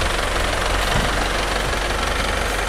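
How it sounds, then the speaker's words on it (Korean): SsangYong Korando Turismo 4WD Chateau nine-seat high-roof van idling with the hood open, a steady low rumble and even mechanical chatter that holds constant throughout, close and continuous with no voices. "엔진 소리도 일정합니다."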